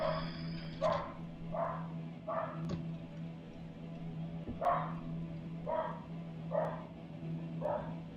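A dog barks in a series of sharp, separate yaps, roughly one per second, with a pause midway, over a steady low hum.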